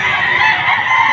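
A fighting rooster brought to a poultry market in Padre Garcia, Batangas crows loudly and close, one harsh sustained call filling the moment alone.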